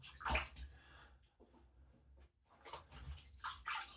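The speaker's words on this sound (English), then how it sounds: "let's have a drop of water on my face." Water splashes onto a face by hand during a wet shave with a Twig safety razor, giving soft, close splashing and dripping sounds in a few uneven bursts without talk.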